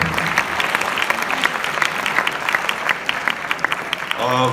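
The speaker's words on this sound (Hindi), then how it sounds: "और मैं चाहूँगा कि एक दफ़ा आप अपने लिए भी तालियां बजाएं" An event audience claps in a scattered, uneven rhythm of individual hand claps, moderately close, with a voice coming in at the very end.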